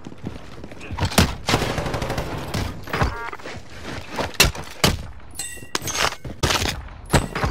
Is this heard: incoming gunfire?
yes